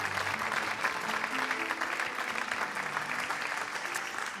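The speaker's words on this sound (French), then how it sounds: "Vous pouvez les applaudir." Audience applauding at an awards ceremony in France, steady, moderately faint clapping from a large hall with a few voices faintly mixed underneath.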